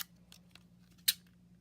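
Scallop punch scissors snip through paper in a few quiet cuts, ending with one crisp, louder snip, close by with no talking.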